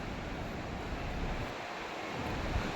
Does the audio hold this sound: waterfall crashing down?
yes